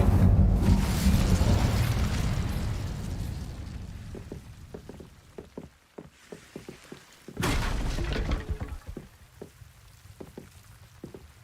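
A fire spell cast in Hogwarts Legacy, heard as a loud roaring burst that fades over a few seconds, then scattered sharp clicks and taps before a second bright whooshing surge near the end.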